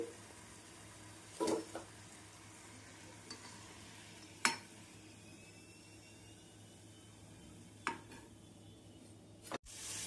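Fried biscuits turned over in sugar syrup in a pan, a low steady hiss with a few sharp knocks and scrapes of the utensil against the vessel, no talking.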